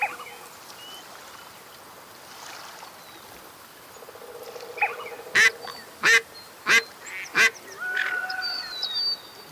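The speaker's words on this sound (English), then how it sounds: "I heard some ducks again." Ducks call outdoors during hunting season: a series of five or six sharp, evenly spaced quacks rings out fairly near after a quiet stretch of faint outdoor ambience.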